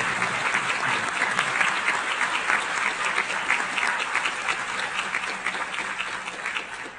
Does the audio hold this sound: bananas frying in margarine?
no